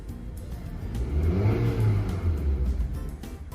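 A 2010 Honda City engine with an unstable idle hums close by, its pitch sagging and rising again in a slow wavering swell over a few seconds.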